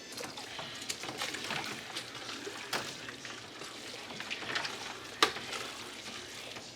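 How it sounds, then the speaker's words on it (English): Sweet corn kernels stirred by hand in a tub of ice water, a steady wet swishing and gentle splashing with occasional sharper clinks and sloshes, close and alone. "we'll keep stirring the corn until it gets to about room temperature"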